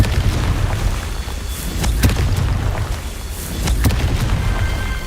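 Confringo blast spell explosions in Hogwarts Legacy, several loud booming bursts with sharp cracks rolling over a rumbling low background, close and forceful, with no talking.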